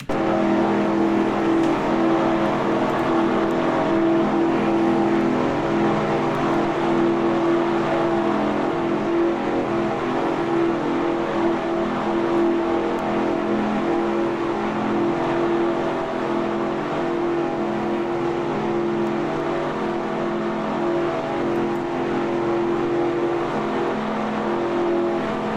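A pack of stock cars from NASCAR Racing 2003 at Orlando International Speedway drones past in steady, unbroken engine roar, several cars layered together at constant high volume with no talk.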